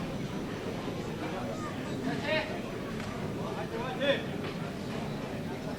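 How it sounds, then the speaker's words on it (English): Crowd murmur fills the arena near the close of a tight trios medal-round match at the 2014 World Men's Bowling Championships, a steady low babble of voices with a couple of brief swells. "Crowd buzzing a little bit here as we wind down."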